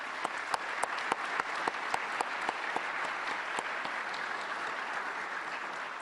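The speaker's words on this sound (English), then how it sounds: "let's have one more round of applause for all of our award winners today" An audience at the 2012 SAMCEDA Awards of Excellence applauds award winners, a steady wash of clapping with a few sharp, close hand claps standing out across the whole stretch, no voices over it.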